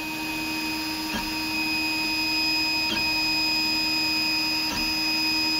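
A MakerGear M2 3D printer runs steadily up close, its motors giving a constant tonal whine with faint periodic clicks roughly every couple of seconds.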